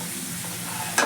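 Methi bhaji and chutney roasting in a home kitchen pan, giving a steady soft sizzle with a sharper scrape or stir near the end.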